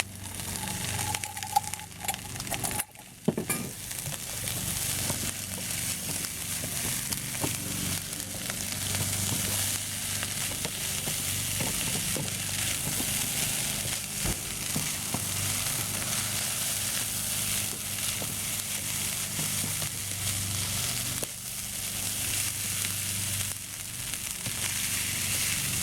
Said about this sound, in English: So you put the rice in it.